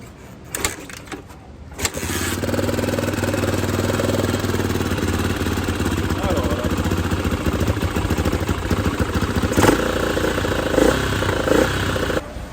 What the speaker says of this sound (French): on va démarrer la bécane